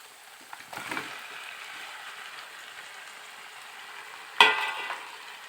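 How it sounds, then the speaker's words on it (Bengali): Chicken pieces being sautéed in a pan for chicken chaap, a soft steady sizzle with two brief scraping stirs, one early and one sharper near the end, no talking. "এবারে মাংসগুলোকে এর মধ্যে দিয়ে একটু কষাতে থাকবো।"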